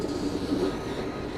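A Garib Rath Express passenger train on the Chennai to Delhi run rolls along steadily, a continuous low rumble of wheels and carriage noise heard from inside the coach.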